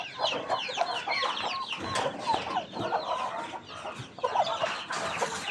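Farm chickens that have just been let out cluck steadily and busily, many birds overlapping close by with no talk over them.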